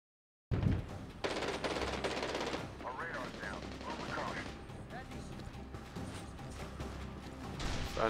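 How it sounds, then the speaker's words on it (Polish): Rapid gunfire in the video game Medal of Honor Warfighter during a Somalia stronghold defense mission, sharp bursts of automatic shots and repeated cracks over in-game combat noise, with a voice briefly heard. "strzelam i strzelam z tej broni"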